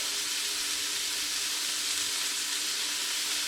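Razor clams frying in a little oil in a pan make a continuous, fairly loud sizzling hiss up close, steady throughout with no voices.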